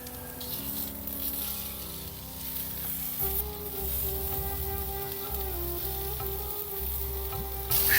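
Sliced sweet potato with rock salt frying in a pan, a continuous close sizzle with light crackles and occasional stirring, no voices over it.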